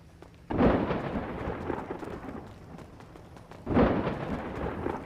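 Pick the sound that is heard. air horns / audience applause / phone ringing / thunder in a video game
thunder in a video game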